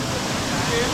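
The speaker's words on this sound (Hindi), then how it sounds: "आवाज़ बहुत ज़्यादा है वाटरफॉल की।" The Ramrama waterfall near Balaghat, fed by a pool that spills over a large drop, sends up a dense, steady, nearby roar of falling water that fills the whole moment, with a voice faintly present beneath it.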